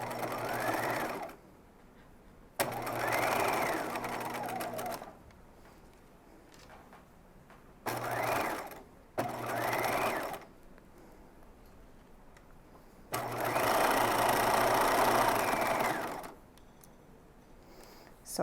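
A sewing machine topstitches a dress neckline in several separate bursts, close and fairly loud, with short quiet pauses between runs and a longer final run near the end.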